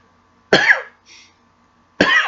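A man coughs twice, close and loud, with a faint throat sound between the two bursts in an otherwise quiet room.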